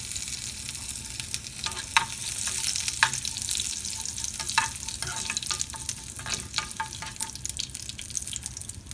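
Curry leaves frying in hot oil with chopped cashews while making vegetable kuzhi paniyaram: a steady, close crackling sizzle dotted with sharp pops and spatters, with no talking.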